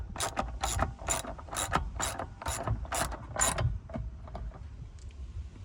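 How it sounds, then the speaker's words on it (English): A hand ratchet tightening the top nut on a Roadtrek van swivel seat, heard as eight quick, close rasping clicking strokes in steady rhythm, then a few fainter clicks, with no talking. "we're just going to tighten up this nut"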